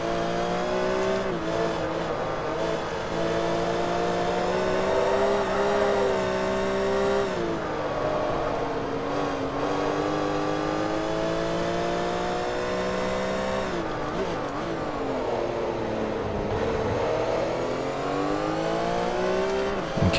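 Race car engines in Forza Motorsport 3 during a German racing car showdown, a loud steady high-revving drone with shifting pitch as the cars accelerate and change gear, continuous throughout with brief dips.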